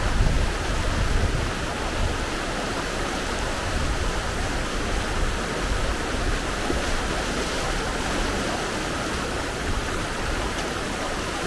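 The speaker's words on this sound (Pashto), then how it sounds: "ډېرې یخې اوبه دي. د خیره را ګډ شو ډېرې تیزې اوبه دي" Fast, cold water rushes steadily at a waterfall in the Najrab valley of Kapisa, Afghanistan, a dense unbroken roar heard close up with no voices.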